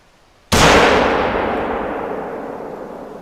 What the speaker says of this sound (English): Let's go ahead and take a shot at this guy.